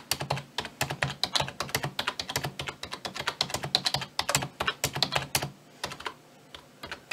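Rapid typing on a Corsair Raptor K30 membrane keyboard, a close, dense run of soft keystrokes in irregular bursts that thins out near the end, with no voices.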